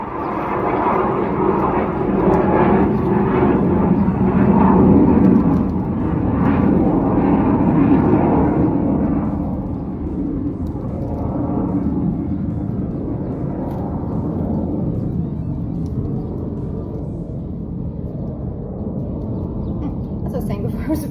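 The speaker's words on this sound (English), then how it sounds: "I was rudely interrupted by the plane." A propeller airplane flies overhead outdoors, a loud broad rumble that swells and then slowly fades over about twenty seconds.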